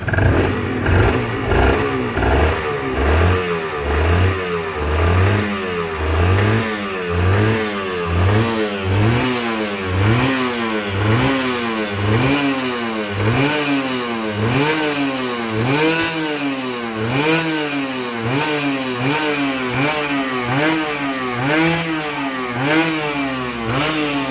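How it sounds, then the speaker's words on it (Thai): A stock, factory-original Honda NSR RR two-stroke motorcycle with a new drive sprocket is revved repeatedly, its buzzing engine climbing and dropping in quick regular blips, loud and close with no talk. "ตั้งเสียงเบิ้ลเครื่อง"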